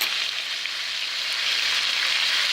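Pork chops frying in a pan give a steady, close hiss of sizzling fat that holds even and unbroken from start to finish, with no voices over it.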